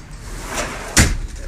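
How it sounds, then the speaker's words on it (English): A door is pulled shut with one sharp, solid slam close by, preceded by a faint swish, with quiet room noise around it. "Close that door, Jay."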